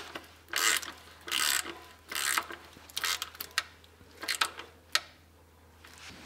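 A ratchet tightening a transmission pan bolt gives repeated bursts of rapid clicking, close and clear, some long and some short with pauses in between, and no one talks.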